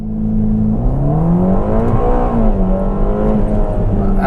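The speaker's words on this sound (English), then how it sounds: "Hold 2500 RPM and off we go." A Ferrari Roma Spider's engine revs hard at 2500 RPM and surges forward in a launch-control start, its pitch climbing steadily through the gears, loud and close.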